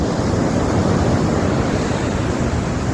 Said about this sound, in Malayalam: നല്ല ശക്തിയായിട്ട് കാറ്റ് വീശുന്നുണ്ട്, തിരമാല വരുന്നുണ്ട്